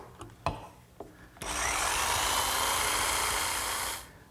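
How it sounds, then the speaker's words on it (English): A handheld jigsaw fitted with a fine, narrow blade cutting wood, preceded by a few light knocks, then a steady buzzing saw run of about two and a half seconds that stops abruptly. "I'm finishing them up with my handheld jigsaw and the finest,"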